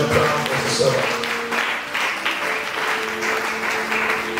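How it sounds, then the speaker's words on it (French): A church congregation breaks into sustained, loud applause that fills the room, with voices mixed in over the clapping. "Est-ce qu'on peut acclamer le Seigneur?"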